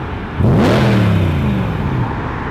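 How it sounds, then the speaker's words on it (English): The V8 in a BMW M3 is blipped hard once, a sharp rev that sweeps up and then falls away over about two seconds, loud and close with no voices. "It's the V8 sound coming from a German car."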